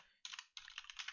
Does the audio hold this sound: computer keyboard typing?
yes